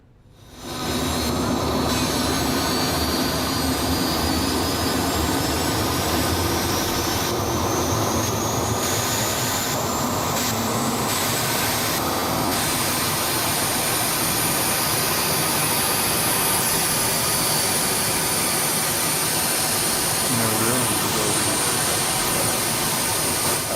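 A loud, sustained jet engine roar from a jet-powered drag racing truck holds steady throughout, with a high whine layered over a broad rushing rumble, no voices.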